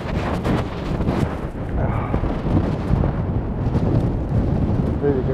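Stormy sea waves crash onto a sandy beach in strong wind at Vityazevo near Anapa, a loud, continuous roaring wash with gusty wind buffeting the microphone throughout.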